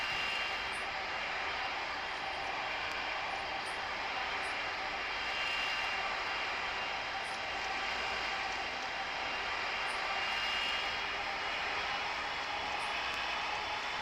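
A heavy jet aircraft taking off in the video game Tower Simulator 3 makes a steady, sustained engine roar that stays broad and even throughout, with faint ticking clicks on top and no talk.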